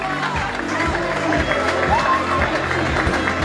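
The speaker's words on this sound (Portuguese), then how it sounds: "grande aplauso para esta menina" Crowd applauds and cheers for a young girl athlete at a track event, steady clapping throughout with a voice calling over it through a loudspeaker.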